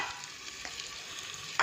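Ginger garlic paste fries with golden onions in a pan, giving a quiet, even sizzle with a faint scrape of stirring and a brief louder clatter at the end, with no talking.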